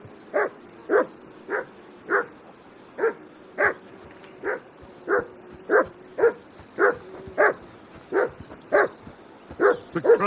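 A dog in the medieval game Kingdom Come: Deliverance II barks steadily, about fifteen evenly spaced barks roughly every two-thirds of a second, fairly close and clear over a quiet background, with no voices.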